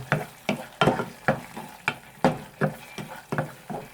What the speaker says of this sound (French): il faut continuer à remuer un petit peu